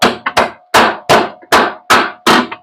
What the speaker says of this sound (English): This is my favorite tool. Right here, this body hammer.